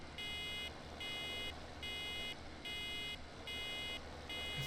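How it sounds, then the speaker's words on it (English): A farm machine's buzzer in Farming Simulator 17 sounds during silage work, repeating in regular pulsed bursts about once a second over steady engine rumble. "Just waiting for that buzzer to stop buzzing"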